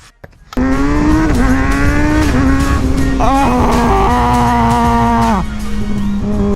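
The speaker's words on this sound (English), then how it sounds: "Oh, the downshifts!" A 2023 Kawasaki ZX6R sport bike roars loudly up close, its high-pitched engine note stepping down and blipping through several quick downshifts before easing off near the end.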